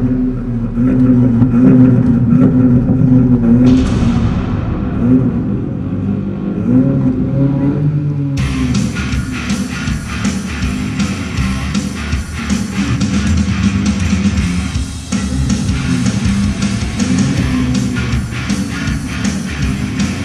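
A powerful Volkswagen Golf concept car engine revs loudly and repeatedly at an indoor show in Beijing, roaring up and down, close and sustained throughout, with no speech.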